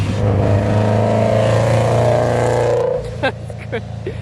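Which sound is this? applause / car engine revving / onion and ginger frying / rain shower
car engine revving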